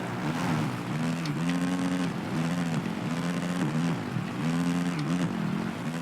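Several motocross bike engines in the video game Monster Energy Supercross 2 whine and buzz together, revving up and down in overlapping waves, a steady droning pack of engines close by.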